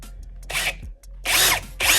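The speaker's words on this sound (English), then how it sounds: "now what we're gonna do is pre-drill our holes so we can go ahead and secure it" A power drill pre-drills holes through wood for a snake rack, heard as a short whir followed by two longer, louder buzzing bursts at close range, with brief pauses between them.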